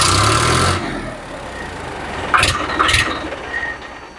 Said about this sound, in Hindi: दोस्तों साउंड आपने सुना इसका, ट्रैक्टर का साउंड काफी बढ़िया है।